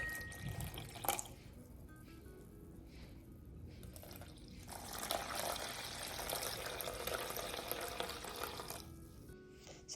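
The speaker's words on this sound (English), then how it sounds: "I'm going to add my water." Water poured from a container into a bowl sitting on a kitchen scale while making sourdough, a steady trickling and splashing that runs for several seconds, close and moderately loud, with no talking.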